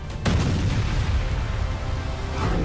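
Israeli air strikes drop bombs on Iranian army positions, producing a sharp blast followed by a lingering low rolling rumble.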